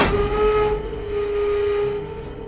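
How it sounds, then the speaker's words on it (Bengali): A train runs toward Panagarh station on a cloudy evening in a Bengali animated horror story, giving a steady, fairly loud rumble with a sustained whistle-like tone that softens midway. No one speaks. "প্রায় বিকেল 5টার দিকে পানাগড় স্টেশনে এসে ট্রেন থামল।"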